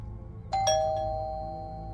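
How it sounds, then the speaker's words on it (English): A doorbell sounds a single two-tone ding-dong, the second chime ringing out and slowly fading over a faint hum. "The doorbell sent a zap of adrenaline through Kara's body."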